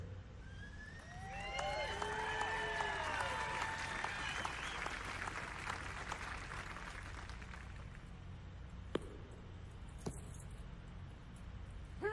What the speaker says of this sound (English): I encourage you to applaud and cheer at any time